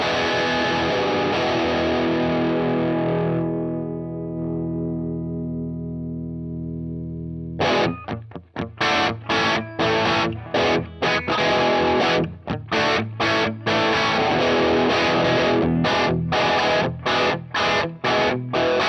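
An electric guitar played through an IK Multimedia Orange Tiny Terror at a crunch setting: a long sustained distorted chord rings out and fades, then a run of tight, rhythmic palm-muted chugs with short gaps between them.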